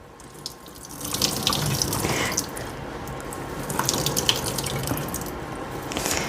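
Liquid squeezed and twisted out of spinach wrapped in a towel splashes and trickles into a sink, a steady close pour with small drips and a few brief rustles.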